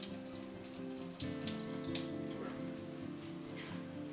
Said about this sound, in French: on jette la vieille eau, et là on rince les graines